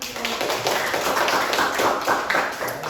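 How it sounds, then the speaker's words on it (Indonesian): Students and a teacher clap in a classroom after a group presentation, a dense, steady patter of many hands that holds close and fairly loud for the whole stretch. "mari kita tepuk tangan"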